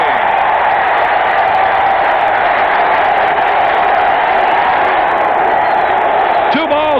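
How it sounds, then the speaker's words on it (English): A baseball stadium crowd at a 1986 Orioles Opening Day game against the Cleveland Indians roars loudly and steadily, a dense sustained cheer with whoops and yells, close and full throughout with no break. "listen to the crowd"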